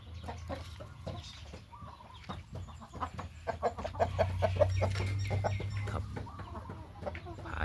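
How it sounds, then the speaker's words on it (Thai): A rooster kept as a breeding cock clucks in a short run of low, throaty calls close by, over a steady low hum of farm background, with no talking. "เป็นไก่ เป็นพ่อไก่เบอร์แข้งดีอีกหนึ่งตัวนะครับ"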